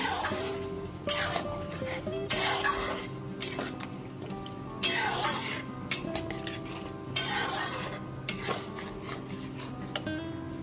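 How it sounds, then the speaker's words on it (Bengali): Boiled mung dal being stirred in a pan together with a fish head, with repeated loud scraping sweeps coming every two to three seconds, close up, over a steady low kitchen hum with no talking. "মুগ ডালটা দিয়ে দেওয়ার পর খুব ভালো মতো মিশিয়ে নিলাম।"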